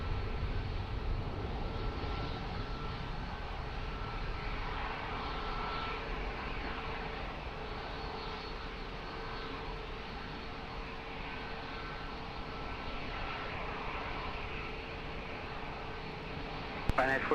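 An Embraer 195 jet rolls along a runway at Lisbon Airport, heard as a steady, distant broadband engine roar that holds evenly throughout under faint radio chatter.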